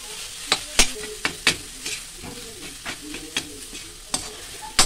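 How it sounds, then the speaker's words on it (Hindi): Khoya stirred and lightly fried over low flame in a kadhai makes a gentle sizzle broken by repeated sharp scrapes and clinks of the spoon against the metal at an uneven rhythm. "इसी कढ़ाई में गाइस ये मैंने खोया डाला है और खोया को गर्म करेंगे।"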